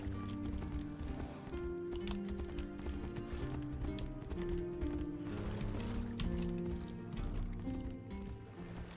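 Horse hooves galloping in the video game Tainted Grail, a rapid steady clip-clop rhythm running under background music throughout.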